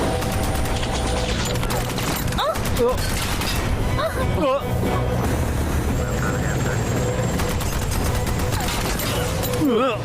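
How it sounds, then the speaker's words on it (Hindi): Dense gunfire in an action film scene, rapid bursts and booms over a constant loud roar of engines and effects, with voices speaking amid the shooting. "अरे वो हमारे पे गोलियां क्यों चला रहे हैं?"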